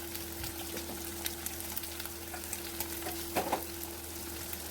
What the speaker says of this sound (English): Fry until the raw smell of the ginger and garlic pieces disappear.